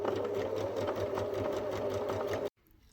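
A sewing machine running steadily on bunny ear fabric, a close, loud, even whirring hum of rapid stitches that stops abruptly near the end, leaving near silence.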